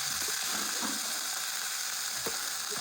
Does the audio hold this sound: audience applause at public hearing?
no